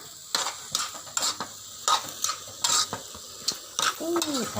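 Hed thob mushrooms stir-fried in a pan: a steady sizzle with repeated scraping strokes of a utensil against the pan, plus light metallic clinks, close and with no talking.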